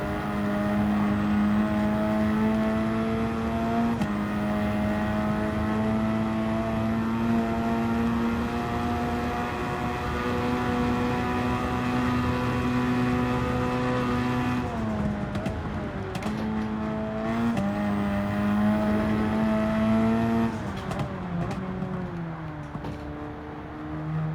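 While Gran Turismo plays on a PS5, a Thrustmaster T-GT 2 steering wheel hums alongside the game's engine drone, a loud continuous tone that shifts pitch with gear changes, with no talking.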